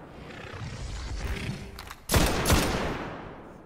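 Gunfire in the video game Destiny, a sudden loud burst of shots after a quieter stretch, with a couple of sharp cracks ringing close over continuous game noise.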